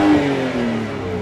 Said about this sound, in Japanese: なんかバブリングしてるんですか